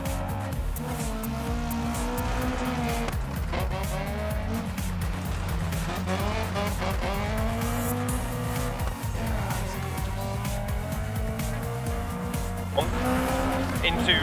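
A rally car in the VR racing game DiRT Rally runs continuously with a buzzing engine note that rises and falls through gear changes, with tire noise and someone talking over it.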